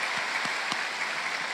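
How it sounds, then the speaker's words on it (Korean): Congregation applause during a Wednesday worship service at a large church, a soft, distant, steady patter of many hands clapping with a few low thumps underneath. "우리 하나님께 모든 감사와 박수 올려드리겠습니다."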